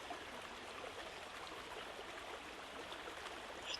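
A river flows past a small stone footbridge with a soft, steady rushing and trickling, faint and continuous, with no voices present.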